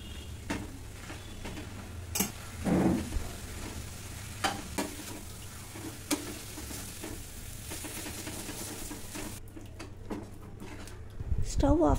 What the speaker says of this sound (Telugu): గోంగూర కాస్త దగ్గర పడ్డాక ఇంకా గోంగూరను వేసి కలుపుతూ ఇలా మగ్గించుకోవాలి